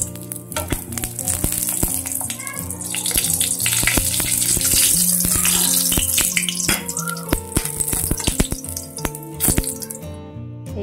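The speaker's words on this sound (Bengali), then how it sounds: "এই যে বড়ি ভাজা হয়ে গেছে" Sun-dried lentil bori (vadi) fry in hot oil in a home kitchen in Medinipur, giving a continuous loud sizzle sprinkled with sharp crackles and pops, with steady tones underneath, before cutting off abruptly at the end.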